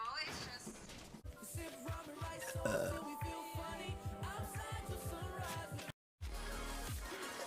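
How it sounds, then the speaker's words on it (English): Long, loud, gurgling burps from a person rumble close up in a rhythmic, pulsing series, with a brief pause before a final deep burp. "Le burp."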